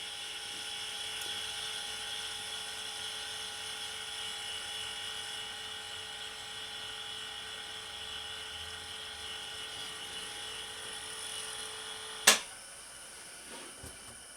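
A quiet air compressor runs steadily with a faint high-pitched whine and hum, then cuts off with a sharp click near the end, leaving near silence.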